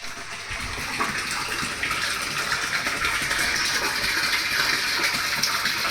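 Water gushes steadily from a tank and tap in a home, a constant close splashing rush that continues without pause and with no talking.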